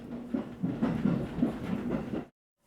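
A train rolls steadily along the rails with a rhythmic clickety-clack of wheels over track joints, moderately close, then cuts off abruptly; heard aboard a local train on the Kansai Main Line.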